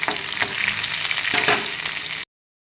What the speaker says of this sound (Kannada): ಇನ್ನೊಂದು ಅರ್ಧ ಬೆಳ್ಳುಳ್ಳಿ ಇದಕ್ಕೆ ಹಾಕ್ಕೊತಾ ಇದ್ದೀನಿ. ಹಾಕಿ ಹಸಿ ವಾಸನೆ ಹೋಗೋ ತನಕ ಸ್ವಲ್ಪ ಫ್ರೈ ಮಾಡ್ತಾರೆ.